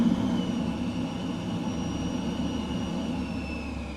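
An F-15E's jet engines roar steadily as the aircraft climbs out on a low-level flight over UK lake country in Microsoft Flight Simulator 2020, a loud continuous rumble with a thin whine above it and no voices.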